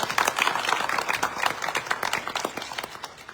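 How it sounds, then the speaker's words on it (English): An audience at a school board candidates forum applauds, a dense burst of many hands clapping that slowly thins and fades out over a few seconds. "please give these folks a round of applause"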